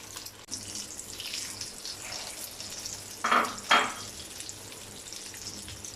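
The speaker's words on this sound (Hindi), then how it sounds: "अब इसमें कबाबों को डिप करते जाएंगे और इस तरह आहिस्ता से ऑयल में रखते जाएंगे।" Egg-dipped chicken kebabs set into hot oil on a tawa, giving a soft continuous sizzle with two louder hissing bursts as pieces go in, close and without talk.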